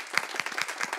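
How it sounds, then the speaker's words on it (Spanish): A congregation applauding at a Catholic Mass, a brief patter of quick overlapping claps, soft and somewhat distant. "Un aplauso para la palabra de Dios."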